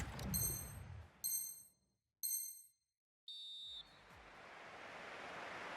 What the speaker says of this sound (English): And the whistle is sounded for...